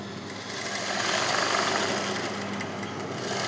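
A sewing machine stitches a blouse neckline in a steady, continuous mechanical whir with a fast, even rhythm, close and fairly loud, with no talking.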